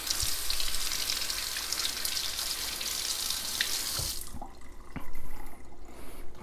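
Running tap water splashes steadily over mullet fish being rinsed in a sink for about four seconds, then cuts off, leaving faint drips and handling noises.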